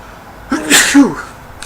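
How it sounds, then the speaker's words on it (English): A single loud, close sneeze with a quick intake and explosive release, heard alone against a quiet background. "I think I'm about to sneeze."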